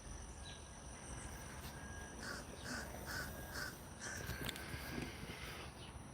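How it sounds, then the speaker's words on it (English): A crow caws from the top of a tree outdoors, giving a run of several evenly spaced calls at a distance, set against a steady chirring of crickets and faint background noise. "There's the crow at the top of the tree."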